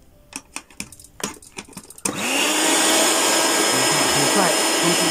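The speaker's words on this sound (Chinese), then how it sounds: "然后我们给它抽一下真空" A few soft clicks and taps, then a small vacuum pump kicks on with a sharp, steady whirring hum that continues loudly to the end.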